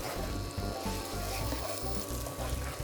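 Onion with ginger garlic paste sizzles steadily in a pan, a continuous quiet crackle with a few soft stirring knocks.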